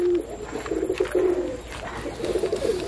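Pigeons coo close by in soft, low, throaty rolling phrases, two bursts separated by a short pause, over faint background noise.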